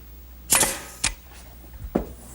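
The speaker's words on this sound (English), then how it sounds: "tack it with a couple nails using my pneumatic nail gun" A pneumatic nail gun tacking nails into wood at a workbench, with three sharp close snaps about half a second apart, each followed by a short hiss of air.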